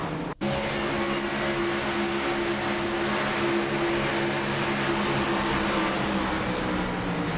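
A pack of Gen 6 stock cars roars around Daytona superspeedway in a racing video game. The loud engine drone is steady and continuous after a brief dip at the very start.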